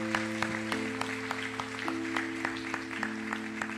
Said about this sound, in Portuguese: Aplaude mesmo a Deus